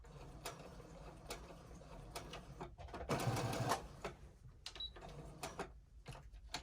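A sewing machine back stitches a fabric mask in short stop-start bursts, with one longer run of stitching in the middle, close and fairly quiet, with no one talking.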